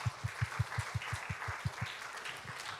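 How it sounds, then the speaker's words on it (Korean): A church congregation claps in unison, a steady rhythmic beat of about six claps per second over a wash of scattered applause throughout the sanctuary. "감사의 박수 한번 올려드리겠습니다"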